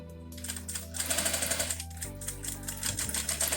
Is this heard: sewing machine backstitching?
yes